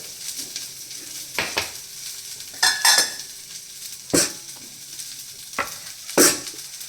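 Sprouted mung beans fry in a pan with a soft, low sizzle, broken by several sharp scraping stirs and clinks of a spoon against the pan at irregular intervals.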